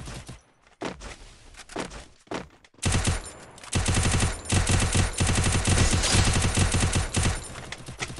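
Rapid automatic gunfire in the battle royale game Free Fire, a few scattered shots at first, then long sustained bursts of loud close fire filling the rest.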